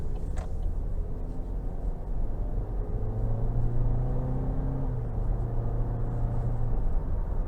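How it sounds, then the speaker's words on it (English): A 2023 GMC Acadia SLE SUV with a 2.0-litre turbo engine accelerates out of a corner, heard from inside as a steady, loud engine drone with a rising tone. "We'll just give it a little throttle out of this corner here."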